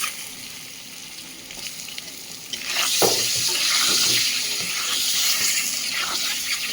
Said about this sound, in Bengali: ভালো করে ভেজে নিচ্ছি ডিমগুলো